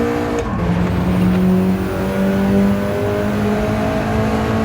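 A Mitsubishi Lancer Evolution's turbocharged engine in a sim racing game drones loudly and steadily, its pitch dropping and then climbing again as it pulls through the gears, close and continuous with no speech.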